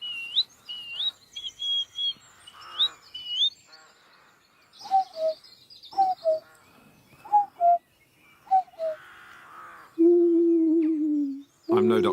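A man whistles and vocally imitates bird calls outdoors, first rapid high chirps, then a series of short paired hoots and a sustained low cooing note, spaced with pauses and a faint background ambience.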